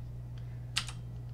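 A few light key taps on a computer keyboard, one crisp click then a second softer one, faint over a steady low electrical hum.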